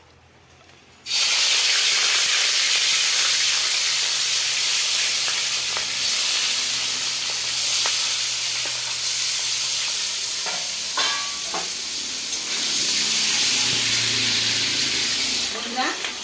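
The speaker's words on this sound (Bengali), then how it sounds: "তেলটা গরম হলে কড়াইতে মাছটা আমি দেবো। হয়ে গেছে, আমি মাছটা দিয়ে দিচ্ছি।" Fish dropped into hot mustard oil in a wok bursts into a loud, close sizzle about a second in, then keeps hissing and spitting steadily, with occasional crackles.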